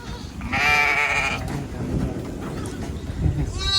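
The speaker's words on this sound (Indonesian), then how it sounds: "Kambing apa, Mor? Ini kambing apa? Domba ya, domba. Domba. Tanduk ya" A horned sheep at a farm park gives one loud, drawn-out bleat close by, followed by quieter animal sounds, shuffling and faint voices.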